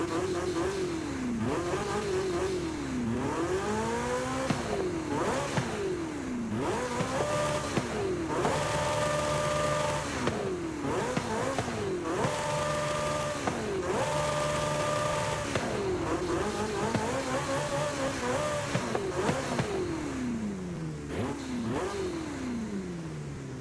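An all-wheel-drive car in Forza Horizon 5 revs and accelerates hard through repeated gear changes, its loud engine note climbing and dropping in a steady rhythm of upshifts.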